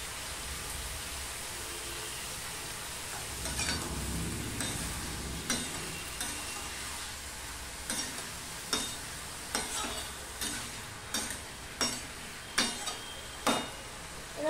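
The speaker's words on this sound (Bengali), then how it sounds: "ঝিঙেগুলো আমি ভালো করে মজিয়ে নেব। একটু হলুদ দিয়ে দিলাম, আর এইটুকু নুন দিয়ে দিলাম।" Sliced ridge gourd cooking in a pan with turmeric and salt, with a steady low sizzle and repeated sharp scrapes of a spatula stirring, growing more frequent and rhythmic toward the end.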